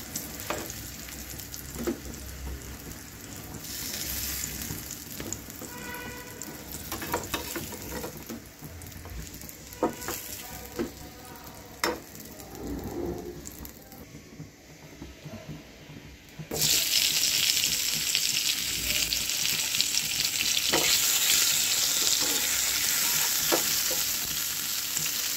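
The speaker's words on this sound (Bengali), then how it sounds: "কুমড়ো ভাজা আর আলু ভাজা করে নিয়ে এদেরই হয়ে যাবে নি" Pumpkin pieces frying in hot oil in a home kitchen while khichuri is being cooked, a continuous sizzle with stirring and clinks that grows louder and denser partway through, with no talk.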